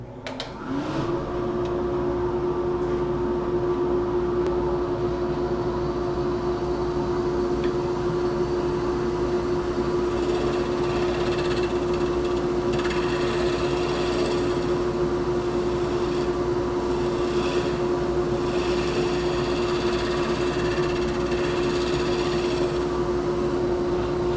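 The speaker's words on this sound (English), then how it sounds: "I actually just decided to take that to the bandsaw and chop it off real quick." A bandsaw runs with a steady, loud mechanical hum and a constant tone while it cuts a piece off a wooden bowl blank, sounding close and continuous throughout, with no talk.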